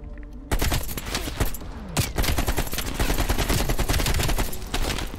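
Sustained automatic gunfire in Call of Duty Cold War, a dense, continuous barrage of loud rapid shots beginning abruptly after a short quieter lead-in and holding for several seconds without talk.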